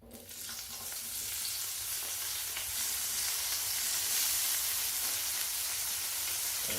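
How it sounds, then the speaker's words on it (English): Potatoes frying in a hot pan on a woodstove, a loud, dense, continuous sizzle and crackle that swells right after they go in and holds steady throughout. "we're going to put the potatoes on"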